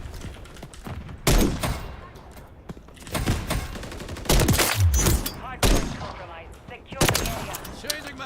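Gunfire in the video game Call of Duty Modern Warfare 3 multiplayer beta: loud bursts of automatic fire and single shots recur across the clip, with busy background battle noise between them.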